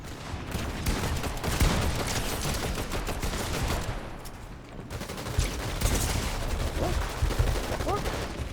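Bursts of rapid gunfire from the Fortnite video game, including distant shots, crackling steadily throughout with a few louder volleys over game audio.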